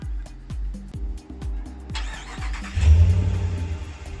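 A 2020 RAM 1500 with a 5.7 liter Hemi V8 and stock exhaust cranks over with repeated starter pulses, then catches and rumbles into a loud, deep idle on a cold winter day.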